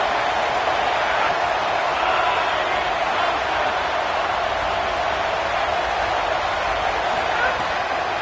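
A football stadium crowd roars in a dense, continuous wash of noise during a game, loud and sustained, with an announcer talking over it.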